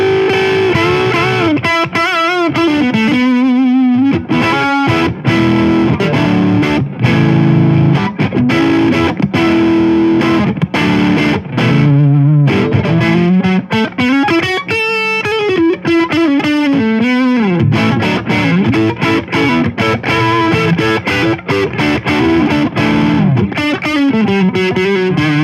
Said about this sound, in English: the classic kind of neck pickup sound